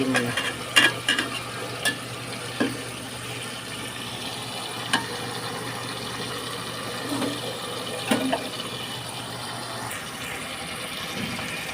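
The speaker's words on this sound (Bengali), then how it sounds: "মাছগুলো দিয়ে দিছি মাছগুলো একটু কষে না" Fish frying in a pan give a steady low sizzle for several seconds, broken by scattered clacks and scrapes as a utensil stirs and turns them.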